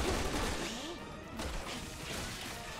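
A grenade explosion in the video game Resident Evil 6 roars loud and broad, then trails into a sustained rumbling wash of debris and noise, with a voice faintly beneath.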